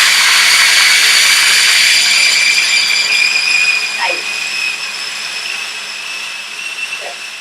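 A food processor grinding kale pesto with pine nuts, giving a loud, continuous motorized whir up close that holds steady and eases slightly in level toward the end.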